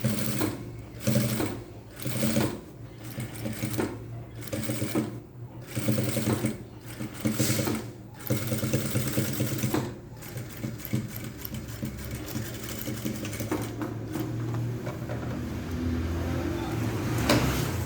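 A sewing machine stitches a thick denim seam on a jean skirt, running in short bursts with brief pauses early on, then a longer continuous whirring run; loud and close, with a faint watery hiss behind it.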